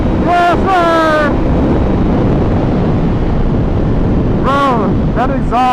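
A Ducati Panigale V4 with a Spark exhaust rides at speed, heavy wind roar covering most of the sound, with rising and falling engine revs audible near the start and again near the end.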